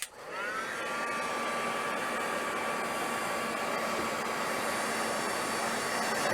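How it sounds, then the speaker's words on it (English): A heat gun blows a steady, close whooshing roar as it dries decoupage medium on a small mixed-media plaque, running continuously and alone. "then I'm going to take my heat gun and dry that off."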